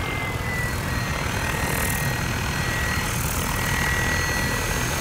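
A Mikado LOGO 600 RC helicopter fitted with 700-size blades spins its rotor at low speed outdoors, a steady whooshing drone with a faint high whine, constant in level and moderately near.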